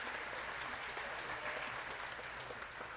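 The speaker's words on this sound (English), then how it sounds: "So let's give them a round of applause, too" Dense, continuous audience clapping at a spring school jazz band concert, applause for the percussion players, steady and fairly distant with a crowd-like wash and no break throughout.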